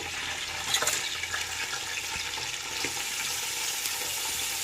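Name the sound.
bay leaf, cinnamon, cardamom, shahjeera frying in hot oil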